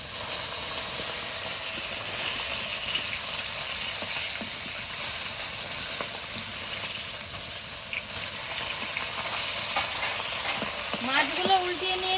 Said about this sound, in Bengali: মাছগুলো এক পিঠ ভাজা হয়ে গেছে, এবার একটা একটা করে উল্টিয়ে নেব